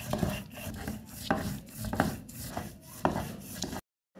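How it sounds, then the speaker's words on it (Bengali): Stone scrapes against stone as bharta is ground on a shil-pata grinding stone, rhythmic rubbing strokes roughly every half second with occasional knocks, close and fairly quiet, ending abruptly. "এদিকে শিলপাটা দিয়ে আমার ননদ ভর্তা করছে।"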